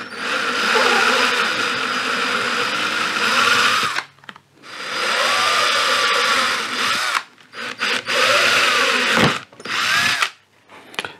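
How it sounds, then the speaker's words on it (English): A power drill whines at high speed in several bursts, drilling 4 mm holes while restoring a 1938 radio, the first burst long and the later ones shorter, with pauses between them. "All right, I'll drill four mil holes."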